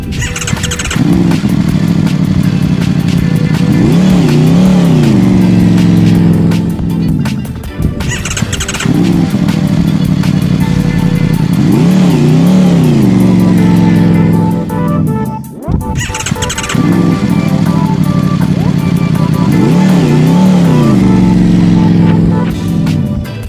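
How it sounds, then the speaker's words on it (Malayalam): An inline four-cylinder Norton motorcycle engine revving hard in three long sustained bursts, loud and close, each rising and falling with short pauses between. "ഈ ശബ്ദം കേട്ടിട്ട് എനിക്ക് തോന്നുന്നു ഇതൊരു ഇൻലൈൻ 4 സിലിണ്ടർ എഞ്ചിൻ ആവാനാണ് സാധ്യത."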